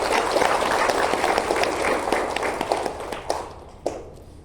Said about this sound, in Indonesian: Tepuk tanganlah boleh untuk para katekis dan agama.